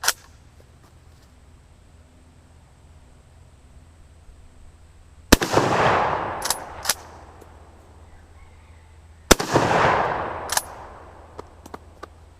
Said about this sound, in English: I'm gonna load those in and fire some more, because damn, this is a nice rifle.